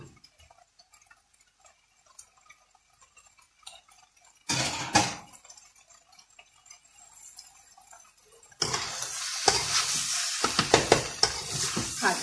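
Pork, chili and morning glory are stir-fried in a pan: after a quiet stretch with small ticks, loud bursts of sizzling and scraping arrive, then a longer, louder stretch of frying and tossing.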